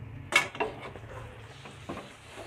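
Finely chopped tomatoes go into a pan of potatoes, one sharp metallic clatter followed by a couple of softer knocks and a faint frying hiss, otherwise quiet.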